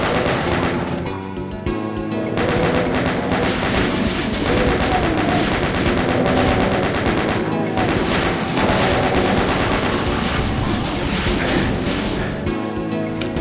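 Chaingunner enemies in a Doom map blast away with chainguns, dense rapid automatic fire rattling almost nonstop and loud, layered with other gunshots and game effects.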